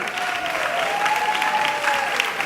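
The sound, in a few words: audience applause for dancers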